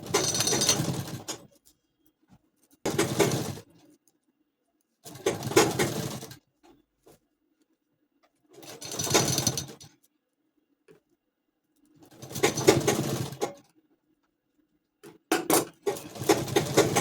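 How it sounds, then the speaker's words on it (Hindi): Sewing machine stitching a sleeve onto a bridal lehenga blouse, running in six loud bursts of a second or two each, separated by short pauses with faint handling noises. "तो अब हम यहाँ से सिलाई लगाना शुरू"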